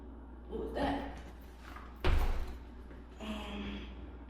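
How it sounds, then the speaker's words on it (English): Closet doors in a newly rented apartment slide along their tracks and shut with one solid thud, followed by a softer rolling sound afterward in a quiet room. "Closet doors."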